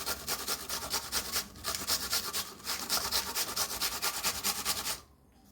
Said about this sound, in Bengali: এই গেটা করে পেঁয়াজ ঘষে নেব।